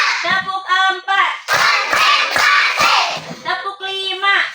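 A class of third-grade primary schoolchildren claps in unison on a teacher's count, with loud bursts of clapping between stretches of adult speech.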